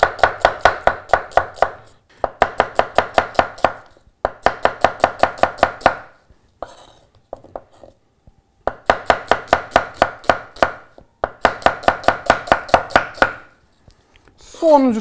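Onions chopped with a knife on a cutting board in rapid bursts of sharp, evenly spaced taps, five or six runs of chops separated by short pauses, close and loud with no talking.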